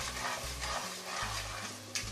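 Finely chopped ginger and garlic fry in a hot pan, a steady close sizzle with a few stirring scrapes over about two seconds.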